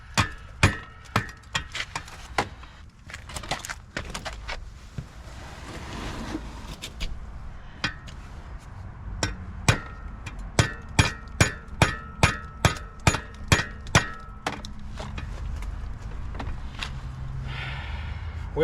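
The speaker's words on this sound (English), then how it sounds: "I'm gonna smack this thing a few times, see what happens" A hammer strikes a seized 1978 CR 250 dirt bike engine in sharp metallic blows, scattered at first and then in a fast regular run of about a dozen hits, close and loud over quiet workshop background.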